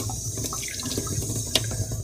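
A sink tap runs warm water beside sharpening stones, making a soft, steady trickle with a few faint drips and splashes. No one speaks.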